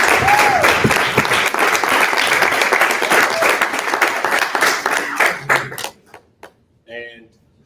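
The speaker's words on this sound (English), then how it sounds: "We clap it up for both of them." An audience at a March on Washington 60th anniversary celebration applauding loudly, sharp close claps over crowd noise that thin out toward the end into a few scattered claps and brief voices.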